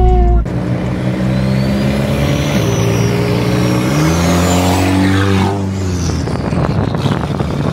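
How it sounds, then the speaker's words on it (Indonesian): A turbocharged VW Scirocco R with AWD revs loudly and close, engine note climbing and holding in stepped pulls before dropping back, with a faint turbo whistle above the roar. "Suara turbo itu. Coba kita dalemin dikit gasnya."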